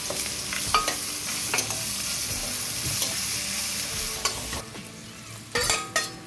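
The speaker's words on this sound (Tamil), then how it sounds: "வெங்காயம் போட்டுக்கலாம்." Onions fry in a hot pan for Dindigul-style lamb biryani. A steady sizzle runs under sharp scrapes and clatters of stirring, all close and alone with no talk.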